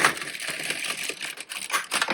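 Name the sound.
LK150 knitting machine carriage knitting a row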